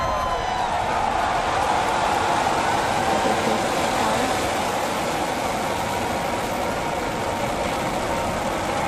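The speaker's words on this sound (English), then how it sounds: "Ignition. Liftoff." Rocket engines of a SpaceX Falcon Heavy roar at liftoff, a dense, unbroken rumbling blast that stays loud and steady throughout, heard from a distance.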